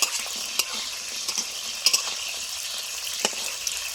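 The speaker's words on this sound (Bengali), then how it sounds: "বড়িগুলো ভেজে নিচ্ছি" Homemade masoor dal bori, lentil dumplings, fry in a pan, giving a continuous soft sizzle broken by frequent scraping stirs and light spatula taps against the metal.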